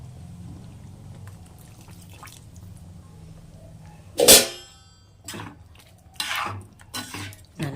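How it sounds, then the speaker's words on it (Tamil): Water is poured into ground chicken masala paste in a kitchen, heard as a few short, separate splashing pours and drips against a quiet background with faint clinks of utensils. "இன்னும் கொஞ்சம் தண்ணி சேர்த்துக்கலாம்."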